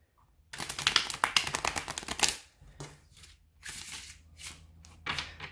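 A Rider Waite Smith tarot deck being riffle-shuffled close by, a dense burst of rapid card flicks followed by several shorter, softer bursts of cards sliding and bridging, with no talking.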